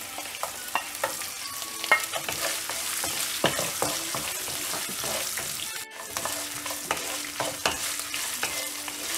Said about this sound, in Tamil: இஞ்சி ஆட் பண்ணிட்ட உடனே தேங்காய் ஆட் பண்ணிடலாம்.